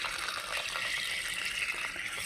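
Water runs from a tap to fetch water in a small home, a steady, soft hissing stream with no break, faint and alone.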